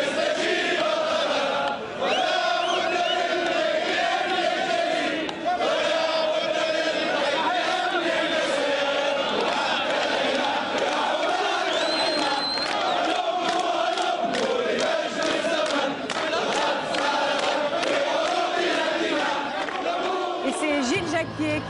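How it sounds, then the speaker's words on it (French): Large crowd in Tunisia in January 2011 singing the Tunisian national anthem together, a loud, sustained, chant-like melody with shouts mixed in. "La foule entonne l'hymne national tunisien"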